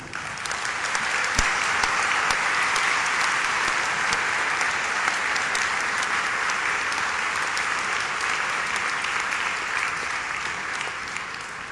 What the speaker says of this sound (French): Je voudrais qu'une première fois, vous les applaudissiez.